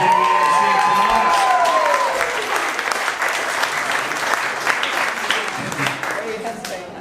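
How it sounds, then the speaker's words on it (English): Wedding guests give a big round of applause for Jasper during the reception speeches, clapping starting loud and dense, mixed with a few cheers and voices, then gradually thinning toward the end. "let's give Jasper a big round of applause for being here tonight"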